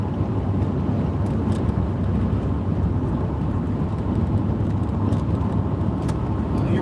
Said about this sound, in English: Traveling on the highway.